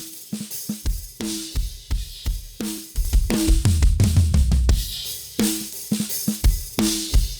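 Metal drum kit kick and snare pass through Overstayer compression and harmonic distortion: a steady pattern of punchy, squashed kick thuds and crisp snare cracks, with faint cymbal bleed behind them.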